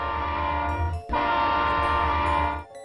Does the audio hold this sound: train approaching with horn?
yes